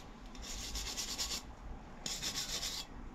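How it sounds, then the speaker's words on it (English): An old steel S-Twing hammer made in the USA being brushed clean in a garage: two bursts of fast, scratchy back-and-forth scrubbing, each lasting about a second, close and fairly quiet with no talk. "I just want to brush it slightly to make it cleaner"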